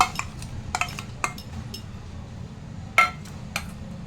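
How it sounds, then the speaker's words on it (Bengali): Whole ground onion paste goes into a cooking pot for shahi chicken, with a few sharp metal clinks and scrapes of a spoon against the pot over a low, steady kitchen hum; no one speaks. "পুরো পেঁয়াজ বাটাটা দিয়ে দিচ্ছি।"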